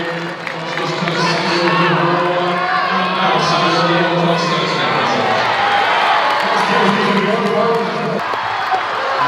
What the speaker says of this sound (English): You can hear the crowd react.